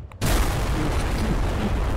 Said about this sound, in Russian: вы сейчас будете наблюдать просто эпические взрывы